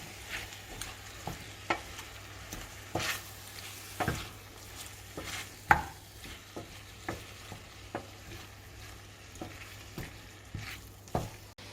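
Vegetables for a veg paella fry in oil while a utensil stirs them. Quiet sizzling runs under a regular series of scraping strokes across the pan, with no voices.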